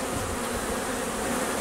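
Honeybees inside a hive during queen rearing give a dense, continuous buzz, close and unbroken, with no talking.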